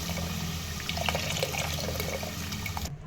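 Tamarind juice pours into a pot of masala fish curry with a soft, continuous liquid splashing and trickling that stops abruptly near the end, faint and close, with no talking.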